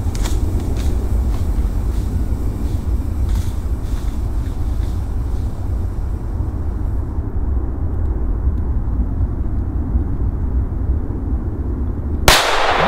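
A firework battery fires a rapid run of sharp shots, loud and close at first, then the bursts give way to a steady roar before a sudden loud blast near the end; no one speaks.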